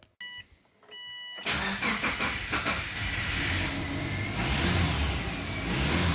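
A non-turbo Subaru Forester 2.5-liter boxer engine, which had a no-start problem, cranks and catches after a few quiet electronic chimes, then settles into a loud, steady, close idle with a hissing rush.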